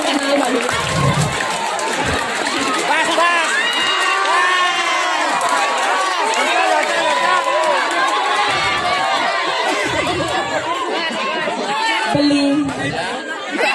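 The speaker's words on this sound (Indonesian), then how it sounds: "Ya, tepuk tangannya dah." A lively crowd chatters and shouts nonstop at a Balinese bondres comedy performance, with excited cheering voices overlapping throughout; little distinct clapping stands out.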